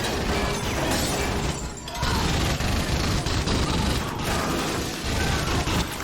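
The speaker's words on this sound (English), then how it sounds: "there were gunshots in the background before they started firing" Gunfire amid dense, loud battle noise from the TV series Battlestar Galactica, with continuous crackling bursts, mechanical clatter and shattering over a constant roar.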